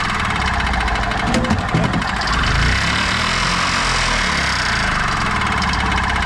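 A worn-out golf cart engine fitted with a new cheap carburetor runs loudly and steadily close by, a rough knocking idle with constant vibration throughout.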